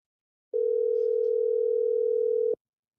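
A telephone signal on an outgoing call comes through as a single steady electronic tone lasting about two seconds, clean and isolated, starting and stopping abruptly with silence around it.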